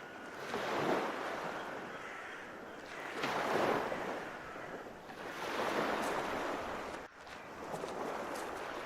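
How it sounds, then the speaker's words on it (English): Stormy sea waves in the video game The Last Door roll in as three or four broad, loud surges of crashing surf, each swelling and fading with a brief lull near the end. "Storming sea is here."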